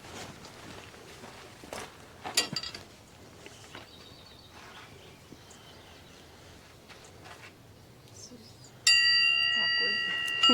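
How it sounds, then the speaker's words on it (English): A dinner bell rung at a family camp on the Fourth of July to call the crew in to eat. Near the end it clangs loudly and rapidly, following quieter outdoor sounds, a few faint knocks and some talk. "We have a dinner bell that we ring to get the crew all in."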